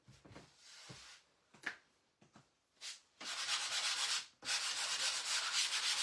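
Sandpaper rubbing over stencil transfers on a wooden angel wings memorial sign, short scratchy strokes at first, then long steady sanding passes, close and loud, with no talking.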